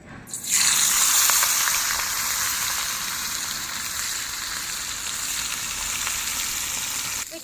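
Fish dropped into hot oil in a kadai, with a sudden burst of loud sizzling that settles into a steady, close, continuous fry with no other sounds.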